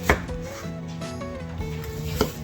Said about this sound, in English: cut some onions. I'm going to go ahead and do these at an angle.